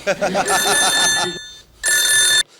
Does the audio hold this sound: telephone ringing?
yes